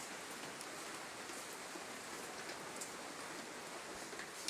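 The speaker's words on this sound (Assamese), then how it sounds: "বৰষুণে দি আছে" Steady rain falling, a faint even hiss with occasional soft drop ticks, distant and continuous with no voices.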